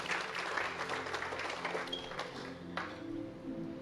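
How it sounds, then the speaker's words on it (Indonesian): Congregation applauding at an Indonesian worship night service, a dense steady wash of clapping filling the room throughout, with no clear voice over it. "Kasih tepuk tangan yang luar biasa buat Tuhan."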